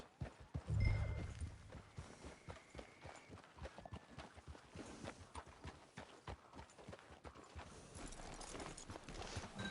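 Faint, steady clip-clop of video game horse hooves at a walking pace with a soft thump near the start, quiet and continuous throughout.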